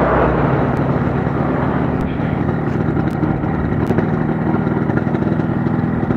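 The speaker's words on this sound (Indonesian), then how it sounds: "mesin ini bunyi" A Yamaha RX King two-stroke motorcycle engine runs steadily close by during a test, giving a dense buzzing drone with a rattly ticking texture and a few sharp clicks.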